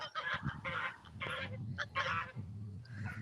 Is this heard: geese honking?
yes